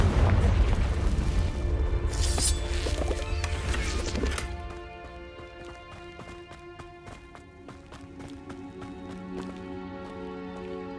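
A Confringo explosion spell from the Hogwarts Legacy video game bursts loudly in a dense, roaring blast for about four seconds, then fades into a quieter ringing tail with scattered sharp crackles and game music.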